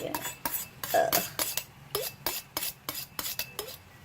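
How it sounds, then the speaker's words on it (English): A kitchen knife is sharpened in about a dozen quick, rhythmic scraping strokes, each a short metallic swipe, heard close and clear in a quiet kitchen. "go ahead and sharpen your knife. Let me just sharpen mine really quick"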